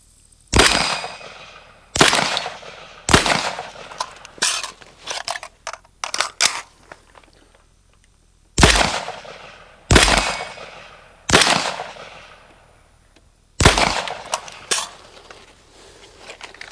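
Single gunshots from an M16A2 rifle fired one at a time with iron sights at an outdoor range, about seven sharp loud reports spaced a second or more apart, with quieter clicks and handling noises between them and no talking.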